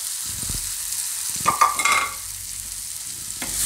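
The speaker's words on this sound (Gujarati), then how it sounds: "હવે આપણે આમાં આ કેળા નાખી દેવું સુધારેલા." Chopped bananas are stirred into cooked fenugreek leaves in a pan, giving a few soft scrapes and clatters over a faint sizzle, close and fairly quiet.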